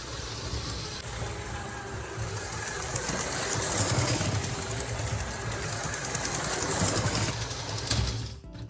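A 1980 Lego 7710 toy train running on its electric motor, a continuous mechanical whir and rattle that is fairly quiet and steady, running stiffly, close by with no talking.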